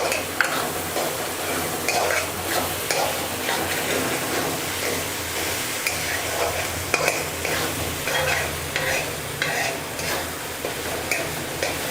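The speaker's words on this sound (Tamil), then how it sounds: "இப்போ இந்த தக்காளியை வந்து நல்லா வந்து நம்ம வதக்கிக்கலாம்." Tomatoes with salt sautéing in a pan for a lentil-dumpling curry, a steady sizzle and frying crackle with repeated stirring scrapes and clinks of a utensil against the pan, close and continuous throughout.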